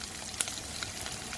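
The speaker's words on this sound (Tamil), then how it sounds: "சின்ன வெங்காயமும் ஒரு 4 பல் பூண்டு போட்டு தாளிச்சிக்கோங்க" Shallots and garlic frying in hot oil for vatha kulambu, a steady close sizzle with small crackles, with no talking.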